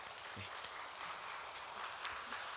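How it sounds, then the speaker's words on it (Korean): A church congregation at a Sunday evening service claps together in steady, dense applause that sounds faint and distant, a continuous crowd patter without a break for the whole moment. "우리 함께 박수로 서로를 격려하는 시간 갖겠습니다"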